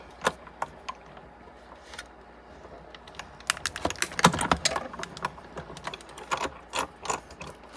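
Paper and vellum are cranked through a die-cutting machine, giving a series of close, irregular clicks and ratcheting knocks that grow busier toward the middle. The sounds are fairly quiet and no one speaks.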